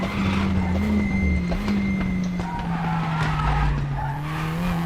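Formula 4 race car in the RaceRoom sim at Laguna Seca rolls into the pit lane, its engine droning steadily at low pitch with a faint tyre scrub, loud and close throughout.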